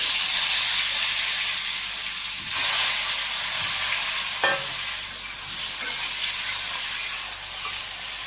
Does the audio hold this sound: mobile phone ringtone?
no